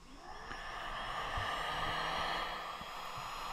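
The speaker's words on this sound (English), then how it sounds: "That heat gun now is on a low setting, 680 watts" A heat gun on its low 680-watt setting, powered through a 12 V 1500 W pure sine wave inverter, gives a steady close-up fan whoosh and hum that holds evenly throughout, with a few faint low knocks.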